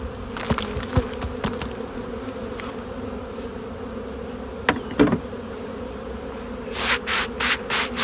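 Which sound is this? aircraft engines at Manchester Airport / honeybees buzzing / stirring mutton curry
honeybees buzzing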